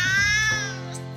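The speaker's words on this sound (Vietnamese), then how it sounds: "Tiếng mèo kéo dài cho thấy mèo rất mừng rỡ khi gặp bạn." A cat lets out one long, drawn-out meow, close and clear with nothing else around it, the tone bending slightly as it trails off.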